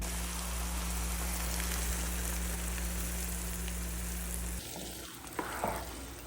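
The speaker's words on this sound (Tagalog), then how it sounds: "lutuin lang natin under low to medium fire for 30 minutes while continuously stirring para hindi masunog yung garlic" Garlic fries in oil in a cooking pan with a steady, dense hiss and low hum, then the hiss drops away abruptly and a brief tone and a soft clatter follow.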